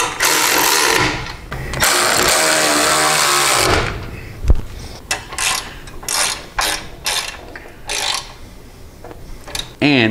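A ratchet wrench tightens bolts on a loosely installed Brawler part, with sustained ratcheting passes at first, then shorter bursts and clicks, close and fairly loud.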